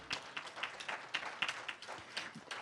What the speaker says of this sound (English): Let's have a round of applause for Megan